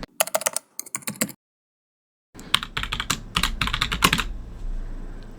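Fingers type a new password on a computer keyboard during a computer domain join: a quick burst of close key clicks, a pause of silence, then a longer, louder run of rapid keystrokes.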